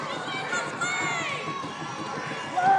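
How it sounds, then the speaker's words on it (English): Basketball crowd in an arena cheering and yelling for the Lady Rebels, a continuous, excited wash of voices with scattered shouts, rising toward the end. "Crowd getting into it, trying to get the Lady Rebels back."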